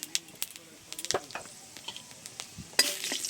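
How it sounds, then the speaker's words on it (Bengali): Panch phoron and dried red chili frying in oil, with sharp clinks and scrapes of a spatula stirring in the pan, then a brighter burst of sizzle rising near the end, close by. "5 ফোঁটন আর শুকনো লঙ্কা তেলে দিয়ে দিচ্ছি।"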